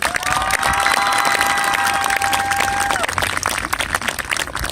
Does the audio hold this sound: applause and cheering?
yes